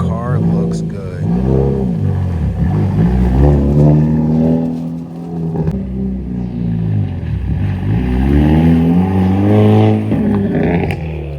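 A Hyundai Elantra N's loud engine revs and drones steadily, rising and falling in pitch close by, with no talking over it.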